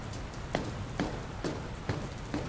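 Rain in the Dr. Langeskov video game, a steady soft hiss of falling water broken by several evenly spaced heavier drips or splashes.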